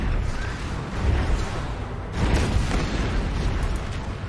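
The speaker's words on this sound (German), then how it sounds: "Wir werden beschossen." Dense rumbling booms and bursts of explosions and gunfire from the video game Anno 2205 roll on continuously at a moderate level, with no clear pauses between them.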